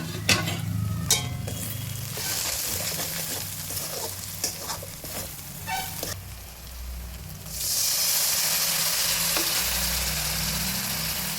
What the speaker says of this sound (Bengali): ধনের গুঁড়ো, হলুদের গুঁড়ো আর লঙ্কার গুঁড়ো, সব দিয়ে এখন কষাবো।